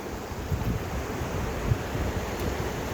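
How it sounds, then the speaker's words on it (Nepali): Clear, clean river water in Nawalpur's Arankhola rushes and laps in a steady, broadband wash with low rumbling surges, continuous and fairly close, with no talk over it. "हेर्नुभएको छ यो पानीको लहर, कति सङ्लो पानी र राम्रो पानी छ।"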